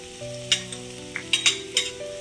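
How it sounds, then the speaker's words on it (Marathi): Chopped onion and ginger fry in a little oil with a steady sizzle, while several sharp scraping stirs of a spoon against the pan cut through at irregular intervals, close up and with nobody talking. "मी कांदा टाकलाय त्याच्यामध्ये थोडस तेल टाकलंय मी त्याच्यात मी थोडीशी अद्रक टाकलेली आहे"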